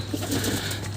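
Young pigeon squabs cooing softly in their nest, a low murmuring coo repeated over a steady background hum, close and fairly quiet.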